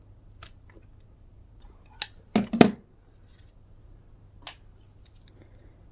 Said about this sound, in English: I separate my tape, and then I take an old pair of scissors